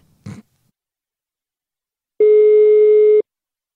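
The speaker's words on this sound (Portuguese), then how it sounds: "Eu vou ligar agora pra Delma." A telephone line tone plays during an outgoing call: a short click, then after a pause a single steady, loud one-second tone that stops abruptly. No voices.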